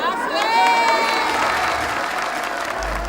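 A large gathering in Bolivia bursts into dense applause and cheering for the president at a political rally; a continuous roar of clapping and raised voices, with a few higher shouts standing out, fills the space without letting up.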